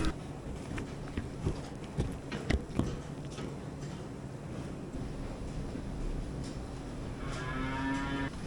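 Heifers on a dairy farm moo in a steady barnyard din, with overlapping low calls rising and falling at moderate distance, a few sharper knocks early on and a drawn-out tonal call near the end.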